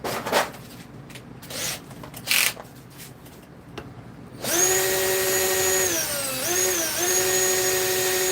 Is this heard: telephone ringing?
no